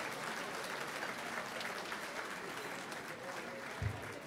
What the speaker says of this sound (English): Let's give another round of applause to the Universal African Dance and Drum Ensemble.